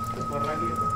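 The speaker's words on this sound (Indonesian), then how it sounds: "Hujan sih." Rain falls outdoors as a steady, dense patter close by, with low voices mixed in.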